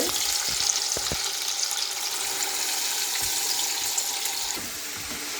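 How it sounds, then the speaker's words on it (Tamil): Salted, cut potato pieces frying in hot oil, a continuous close bubbling sizzle with a few stirring clicks, dropping slightly quieter near the end. "நாங்கள் இப்போ உருளைக்கிழங்க பொறித்து எடுப்போம் முதலாவது எண்ணெய் கொதிச்சதுக்கு போடுவோம்"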